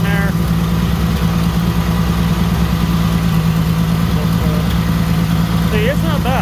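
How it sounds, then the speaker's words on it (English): A car engine idles steadily in a shop with a cold-running block, a continuous low hum with a constant pitch close to the microphone, faint squeaks over it. "The engine block's running not bad."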